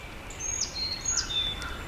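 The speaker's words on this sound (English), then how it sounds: "Birds are singing." Birds chirp and sing in short high whistled phrases along an old canal towpath, fairly faint, over a steady low outdoor background hiss.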